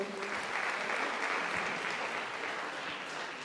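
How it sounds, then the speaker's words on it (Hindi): Congregation in a church giving loud, sustained applause after a healing testimony, a dense, even wash of many clapping hands that holds steady throughout. "जोरदार ताली बजाएंगे।"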